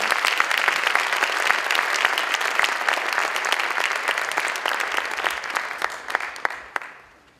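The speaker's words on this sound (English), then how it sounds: "Let's give a big rousing round of applause for Mayo Stars and Phoenix Flames." A gala audience breaks into a big round of applause for two performing groups, with crisp, dense clapping near and loud that holds steady, then thins out and fades away at the end.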